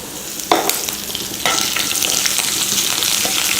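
Dried red chillies and curry leaves crackle in hot oil: a loud burst of spitting sizzle as they go in, then a dense, steady frying hiss with scattered pops.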